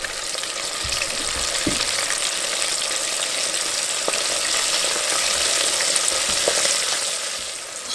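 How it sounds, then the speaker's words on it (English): Bait minnows deep frying in hot oil, a dense steady sizzle with crackling pops throughout, close and loud, no talking. "let's drop these guys in and see how they fry. Oh, look at that, beautiful. Look at the sizzle on that."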